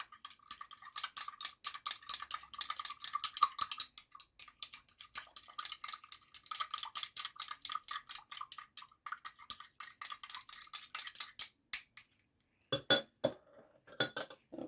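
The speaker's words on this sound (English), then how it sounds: "you get your stirring rod and you stir. So this will dissolve it." A glass stirring rod clinks rapidly and repeatedly against a glass container while dissolving vitamin C powder in solution, a bright, steady tinkling rhythm that thins into scattered taps at the end.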